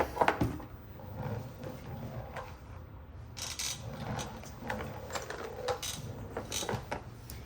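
A half-inch ratchet tightening a bolt on a VanMade Gear fog light bracket for Diode Dynamics SS3 lights on a Ford: quiet, close clicking and mechanical rattles in short bursts, with no talk.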